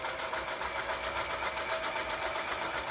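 A Toyota 9600 household sewing machine stitches a zigzag pattern, giving a fast, even mechanical rattle that runs steadily and close up with no talking.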